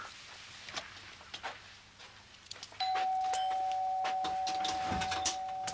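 A doorbell indoors rings partway through with one sustained electronic tone, preceded by quiet household clatter and faint knocks, and continuing steadily to the end.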